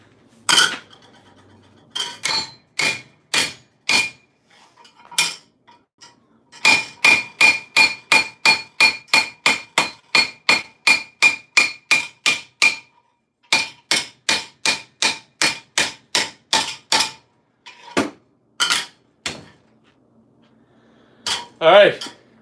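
Metal is hammered on armour being made in a garage. The strikes ring loud and close in steady, rapid runs, separated by short pauses and a few isolated blows.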